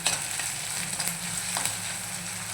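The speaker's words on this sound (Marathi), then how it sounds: "कांदा थोडा नरम होईपर्यंत आपल्याला परतवून घ्यायचा" Onion sautés in a pan for green tomato chutney, a steady close sizzle and frying hiss with faint stirring scrapes, loud and continuous throughout.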